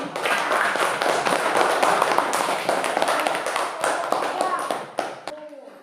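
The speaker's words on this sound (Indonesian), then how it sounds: "Coba tepuk tangan sekarang." Students in a classroom clap their hands together, a loud, fairly brief burst of mixed clapping that thins and tapers off toward the end, with some voices mixed in.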